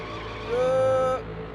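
A car slides in the racing game NASCAR 2001 with a rising, sustained tire squeal lasting about half a second over a low engine drone.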